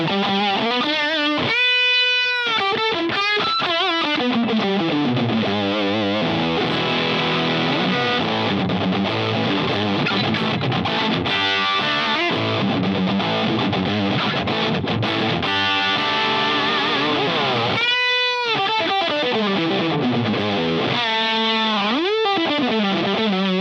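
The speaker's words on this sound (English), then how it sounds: "And then there is the distortion, which sounds like this." An electric guitar played through a distortion pedal rings out loud and saturated, with sustained fuzzy chords and single-note bends and slides running continuously without pause.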